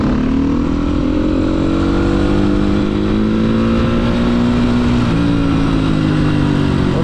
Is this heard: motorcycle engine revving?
yes